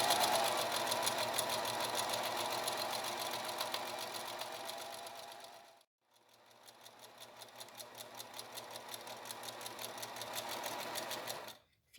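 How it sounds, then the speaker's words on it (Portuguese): Sewing machine stitching doll fabric slowly with a backstitch, a steady close mechanical whir that stops briefly midway, then resumes and runs on alone. "Vou fazer um retrocesso no início. E vou costurando devagar."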